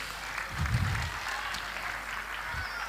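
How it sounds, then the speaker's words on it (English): Audience applause for a theatre troupe at a Diwali festival at Bhaktivedanta Manor, a steady wash of clapping from a large crowd filling a hall, moderately loud and continuous. "A big round of applause for the Bhaktivedanta players."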